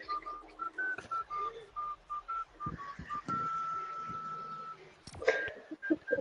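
Tuneful whistling replayed from a phone video during a Fortnite voice chat, a series of short steady notes followed by one long held tone, with a burst of laughter and talk near the end.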